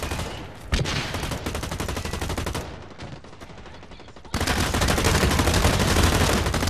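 Rapid automatic gunfire from a video game shooter, dense bursts of loud shots with a brief quieter gap in the middle before heavy firing resumes close by.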